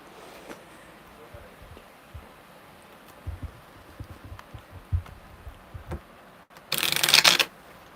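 Tarot cards shuffled by hand during a live reading: soft scattered riffling taps, ending in a loud, dense burst of card flutter near the close, with quiet room noise and no talk.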